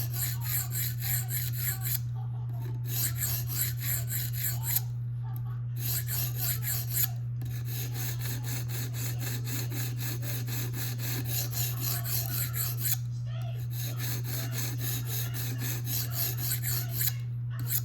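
A Spyderco Manix 2 knife blade rasps steadily against a sharpening stone as it is ground down to the plunge line, continuous close scraping strokes with a constant low hum beneath and a few brief pauses.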